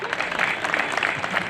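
Audience applause at a live stage event, a steady patter of many hands clapping through the short stretch, moderately loud with a faint crowd murmur underneath.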